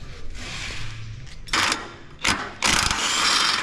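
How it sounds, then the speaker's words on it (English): A DeWalt power tool fires in short, loud mechanical bursts while a car frame is taken off. Three or four whirring, rattling blasts break up quieter workshop background noise. "Hand me the DeWalt"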